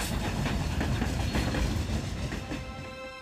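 A coal train rolls along the railway near a rail yard, with steady clickety-clack of wheels over rail joints and a sustained rumble that eases off toward the end, heard up close with no talk.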